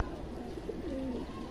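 Pigeons perched on lights at night coo softly in a few low, rolling phrases over steady background noise, with a faint murmur of talk.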